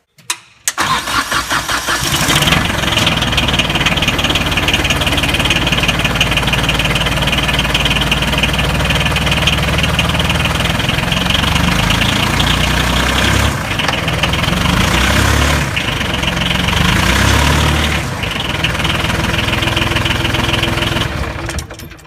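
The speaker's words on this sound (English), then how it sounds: "You can simply start the engine and engage the clutches in neutral." Yanmar diesel engine in a Polaris Ranger, started and left idling with its clutches engaged in neutral, a loud, steady close-up rumble that keeps running alone with slight surges for the whole stretch.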